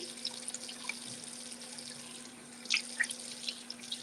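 Tap water from a faucet runs into a sink while a face mask is rinsed off, a faint steady flow broken by a few brief splashes and drips near the end.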